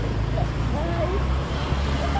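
Engine hum from a Vario motor scooter riding along a road, a steady low drone with a faint whine throughout, with wind and traffic rumble mixed in.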